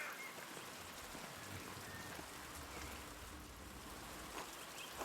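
Rain falls steadily in the medieval-set video game Pentiment, a continuous soft hiss of drops on the ground that fills the scene evenly from start to finish with no voices.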